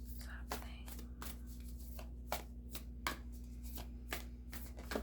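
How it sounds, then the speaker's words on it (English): An Angels and Ancestors Oracle card deck being shuffled by hand, a steady run of soft, close riffling card flutters over a low constant hum, with no talking. "can we get a card from this deck here? The Angels and Ancestors Oracle."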